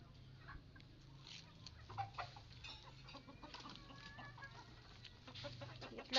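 Chickens cluck softly in a free-range poultry yard in the morning, a few scattered low calls rising and falling, fairly faint, with no talk.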